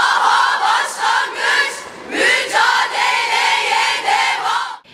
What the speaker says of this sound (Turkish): kadınlar alkış ve ıslıklarla tepkilerini dile getirdi